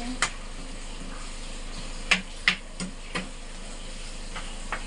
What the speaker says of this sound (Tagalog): Continue lang paghalo.